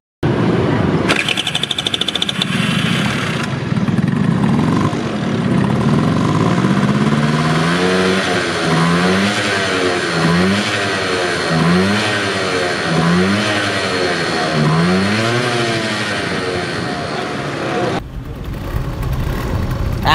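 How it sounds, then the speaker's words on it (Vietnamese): A two-stroke motorcycle is started and revved, repeated rising and falling revs over a buzzing idle, loud and close, with occasional voices nearby. "Anh có thể nổ máy cho em coi chiếc này thử được không anh?"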